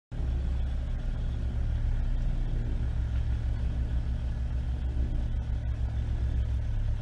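A vehicle drives across grassy terrain in an educational vehicle-building game, giving a steady, loud low engine rumble with an even drone that runs unbroken from start to finish.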